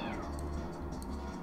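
A cat gives one drawn-out, close meow, loud and whiny, alone without talk over it.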